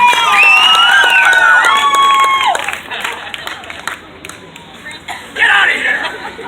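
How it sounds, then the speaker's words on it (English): A crowd at a live show applauds and cheers departing stage assistants, loud clapping and whoops under a bright whistling tone early on, then thinning clapping and chatter with a second burst of cheering near the end. "Let's send them away with a big round of applause"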